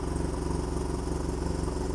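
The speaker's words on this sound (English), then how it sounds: "you got to hand it to that new double overhead camshaft engine" A motorcycle with a new double overhead camshaft engine runs steadily and close by, a continuous, even throbbing drone with a fast regular pulse and no voices over it.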